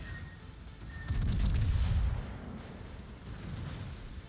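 Battleship secondary guns fire in World of Warships, aboard the tier 7 British battleship Hood: a short, loud, low rumbling volley lasting about a second, with a fainter rumble after it over steady game background noise.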